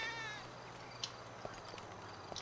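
A cat meows in the video game GTA V, a faint, brief cry at the start followed by a few soft clicks against a quiet in-game background.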